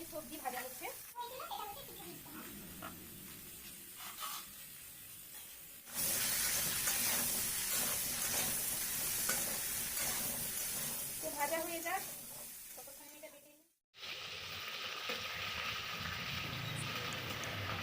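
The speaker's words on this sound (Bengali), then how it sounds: "প্রথমে তেল দিয়ে ওই সবজিগুলোকে হালকা একটু ভেজে নিচ্ছি" Vegetables fry lightly in hot oil for a khichuri dish, giving a faint, steady hiss that swells louder midway and then cuts out briefly, with a voice talking alongside.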